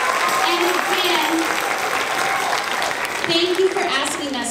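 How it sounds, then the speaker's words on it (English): Audience applause for an accompanist at a Martin Luther King Day celebration at Chadron State, steady and fairly close full-room clapping that lasts throughout, with voices faintly mixed in. "a great hand of applause for our accompanist, Mrs. Hastings"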